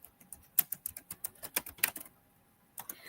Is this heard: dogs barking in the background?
no